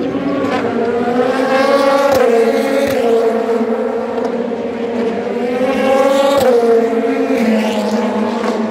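Race cars at the 2024 24 Hours of Le Mans scream past loudly, their engine notes rising and falling as they shift gears and sweep by, with the roar continuous throughout.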